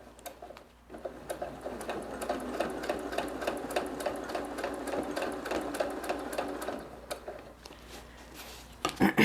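A sewing machine runs steadily, stitching a quilt along a seam line with a straight ruler, its rapid needle rhythm continuing for several seconds after a quiet start, with a few louder clicks at the end.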